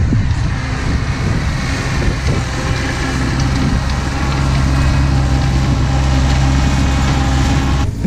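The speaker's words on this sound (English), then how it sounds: "I don't think you can hear me because John's on the tractor" A tractor engine runs steadily outdoors on a farm, a low continuous rumble with a deep droning hum holding at constant loudness throughout, no voices over it.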